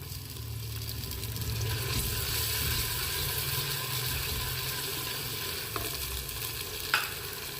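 Tomatoes frying in a pan for arvi masala, a dhaba-style taro curry: a steady close sizzle with stirring scrapes throughout, and a couple of sharp clinks near the end.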